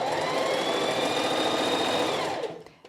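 Domestic sewing machine running a steady, fast stitch along a quilted jacket seam with a long stitch length, loud and continuous, then slowing and stopping near the end.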